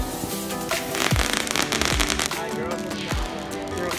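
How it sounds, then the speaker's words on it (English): Neighbors set off fireworks on the Fourth of July, a dense stream of crackling pops and sharp whistling bursts, fairly close and loud, with a few distinct booms standing out from the continuous crackle. "Our neighbors are shooting a whole bunch of fireworks."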